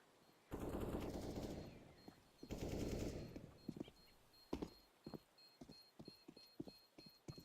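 Gunfire in Counter-Strike during an ESEA MDL match: two loud sustained bursts of automatic fire open the scene, followed by a run of sharp, separate single shots and footstep-like clicks, with no talk over them.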